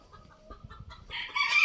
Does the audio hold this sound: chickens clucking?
yes